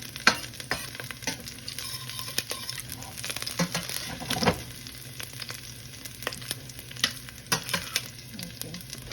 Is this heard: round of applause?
no